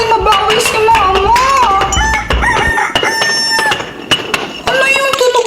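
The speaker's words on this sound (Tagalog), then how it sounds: "Nagkukulokot yung manok." A rooster crows loudly and repeatedly, its long rising-and-falling calls overlapping one another against a busy, noisy background.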